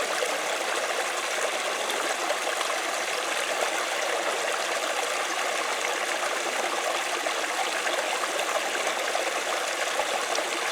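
A creek at an off-grid cabin runs in a continuous, even rush of flowing water, close and steady throughout, with no one talking.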